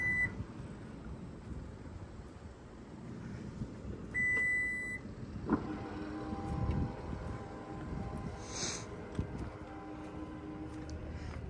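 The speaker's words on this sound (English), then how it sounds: "power tailgate." A Toyota RAV4 power tailgate beeps as it operates: a short high tone near the start, a steadier beep a few seconds later, then a soft mechanical hum and clunk, with a quiet background and no talk.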